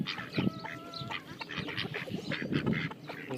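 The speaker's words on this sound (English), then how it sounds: "These are my Saxony ducks." Saxony ducks quack in a quick, uneven series of nasal calls, fairly near and moderately loud, with a few honking notes mixed in and no talking.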